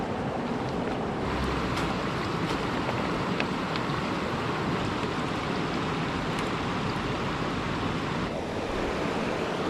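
A river rushes loud and constant outdoors while a gold pan is rinsed in it, a broad, unbroken wash of flowing water with faint splashes and no voices.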